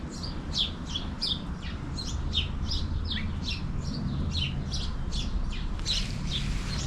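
Birds tweet and sing in quick repeated chirps throughout, moderately distant, over a steady low outdoor rumble.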